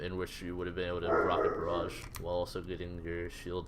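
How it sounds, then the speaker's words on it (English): A dog barks in the room, yipping repeatedly behind someone commentating an Overwatch match, the barks partly buried under his steady talk. "Sorry for my dog, by the way."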